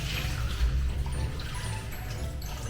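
Murky rice-washing water pours out of a pot in a kitchen, a steady sloshing, splashing stream close by, with no talk over it.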